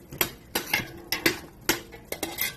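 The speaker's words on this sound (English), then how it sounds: "So now I'm going to go in with my kind of root vegetables, hard vegetables, put those in there." Hard root vegetables are dropped and stirred into a pot of vegetable soup, giving about seven sharp clattering knocks of utensil against pot in a steady, uneven rhythm, close and fairly loud, with no voices.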